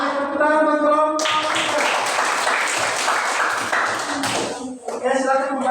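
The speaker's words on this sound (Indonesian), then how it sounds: "Oke, tepuk tangan buat kelompok" A classroom group gets a round of applause that runs for about three seconds between spoken voices, with brief talk before and after the clapping.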